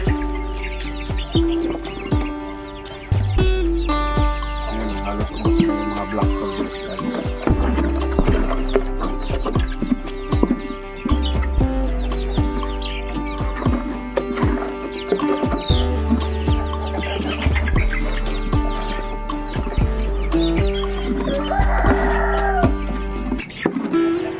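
Chickens cluck and chatter steadily while eating black soldier fly larvae, heard close and continuously, with scattered sharp clicks and taps among them.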